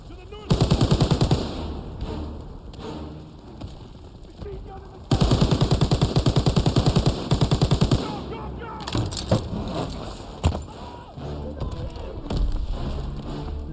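Machine gun fire in Call of Duty WWII at the Battle of Remagen: long rapid automatic bursts rattle loudly, broken by pauses, scattered single shots and battle noise, with soldiers shouting in between.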